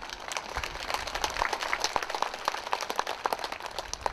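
A crowd claps at an outdoor Buddhist water-and-land ceremony by Musimcheon stream in Chungbuk, with a steady, moderately loud patter of many hands and sharper individual claps standing out throughout.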